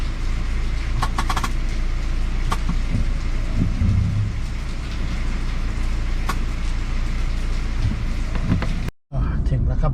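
Rain falls steadily on a car during a drive in Nakhon Pathom, heard as a dense, loud wash from inside the car, with a brief low rumble and a short break near the end.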